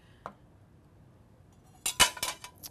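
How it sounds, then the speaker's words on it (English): Plastic and metal parts of a Cuisinart FP-14DC Elite Collection food processor clinking as the lid comes off and a shredding disc goes in: one small click, then a quick cluster of clattering knocks, fairly close, with no talk. "Now what we're going to do is going to remove the lid and switch to our shredding disc."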